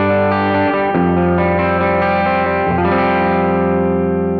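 Electric guitar fitted with Railhammer pickups played clean through an amp with the gain at zero, chords ringing out loud and full with sustained harmonics, a couple of strums changing the chord, no talking.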